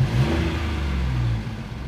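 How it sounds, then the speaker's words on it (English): A 1993 Subaru Justy's small three-cylinder engine revs steadily and close by, a low, slightly thrashy drone that holds for nearly two seconds before easing off. "Which sounds just as good as three-cylinder engines normally do."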